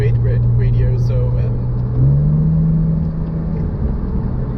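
A Porsche Boxster S sports car engine revs up and accelerates with a deep, loud rising drone, rumbling close by.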